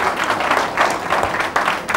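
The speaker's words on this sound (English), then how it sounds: "Clap for the Ogbomosho boys." A talk-show studio audience claps for the Ogbomosho boys, a loud, close burst of many hands clapping together with rising and falling swells over two seconds.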